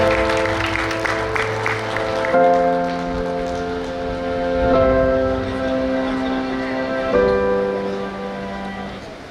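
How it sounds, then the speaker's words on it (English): An audience at a conference opening ceremony claps in sustained, dense applause, with music or tones running underneath. "Big round of applause for Haresh sir."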